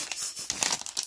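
A Magic: The Gathering booster pack's foil wrapper is torn open up close, with quick, sharp crinkling and ripping bursts over about a second and no voice.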